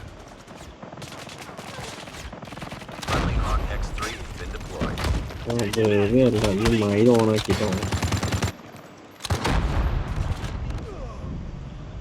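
Gunfire from the mobile shooter game Call of Duty Mobile comes in rapid automatic bursts with loud cracks. Someone talks over the shooting at times.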